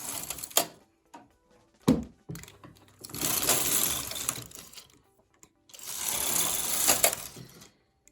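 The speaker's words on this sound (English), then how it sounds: "we're going to knit 2 rows on hold" A knitting machine carriage, cams set to hold, sweeps across two rows in two loud, rushing, whirring passes of about two seconds each, with sharp clicks and clacks before and between them.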